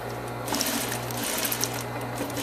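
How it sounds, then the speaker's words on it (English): A sewing machine stitches a seam at a half-inch allowance, running as a close, steady mechanical whir that pauses briefly midway and then resumes. "Take your time and make sure that you sew it exactly right."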